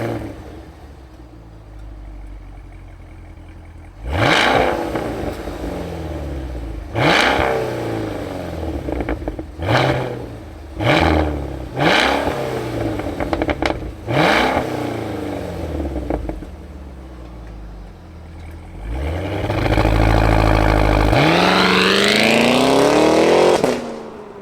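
A 2023 Cadillac Escalade V full-size performance SUV engine fires up and revs hard in a run of sharp, loud blips, then holds a sustained high roar near the end, with no talking.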